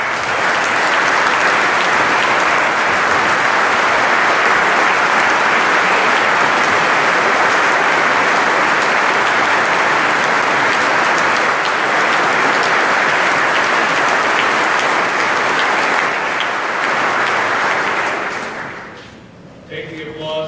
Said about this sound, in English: Take the applause now.